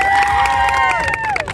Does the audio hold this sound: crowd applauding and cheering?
yes